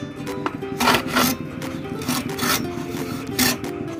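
Rhythmic rasping strokes of a hand saw crosscutting through wood for a homemade slingshot, several back-and-forth pulls at an even pace, close up.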